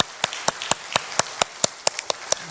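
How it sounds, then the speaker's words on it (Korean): Church congregation applauding in praise, heard as a series of distinct, evenly spaced claps, about a dozen over a couple of seconds. "신실하신 하나님께 영광의 박수"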